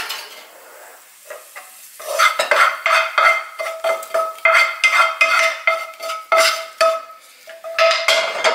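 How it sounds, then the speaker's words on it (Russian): A spoon scrapes and turns matzo soaked in milk, eggs and fried onion in a pan, steady rhythmic strokes roughly twice a second, close and loud with a faint sizzle and no talking. "И все хорошо перемешаем."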